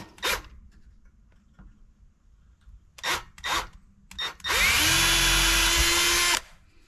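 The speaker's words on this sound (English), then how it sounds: "You'll find a drill and a small screw." Cordless drill driving a small screw into wood: a few short handling clicks and scrapes, then one loud sustained whirring run of about two seconds up close that stops abruptly, no speech.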